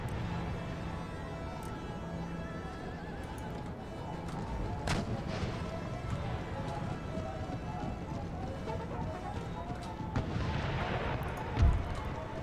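Mortar and cannon artillery booming across a battlefield in Empire: Total War, distant thuds and a sharper blast near the end over a steady din of hooves and marching troops.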